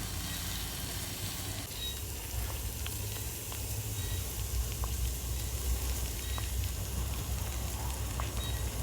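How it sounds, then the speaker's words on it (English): Wild mushroom soup bubbles and simmers in a single pot outdoors, a steady soft crackling hiss with faint ticks running throughout, quiet and without talk. "Mushroom is cooking now."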